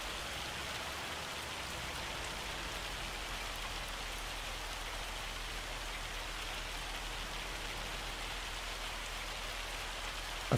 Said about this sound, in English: I don't know if this is heavy rain or hail.